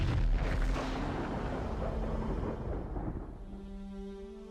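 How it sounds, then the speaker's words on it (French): Deep, rumbling boom of a supernova explosion effect, a heavy low roar that swells at once and slowly fades over a few seconds, with a sustained hum emerging near the end. "À la suite de cette explosion"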